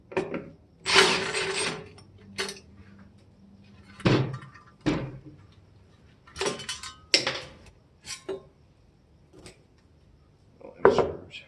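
Screws are worked out of the wooden cabinet of a Sony sound system during disassembly, giving scattered clunks, scrapes and ratcheting knocks at irregular intervals with quiet gaps between, close by.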